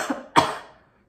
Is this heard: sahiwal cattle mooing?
no